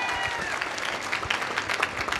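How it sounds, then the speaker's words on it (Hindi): A crowd claps for a team at a lively gathering, a dense steady patter of applause lasting the whole stretch, fairly loud and close, with a few voices mixed in. "दोस्तों, जोरदार तालियां मेरी टीम के लिए।"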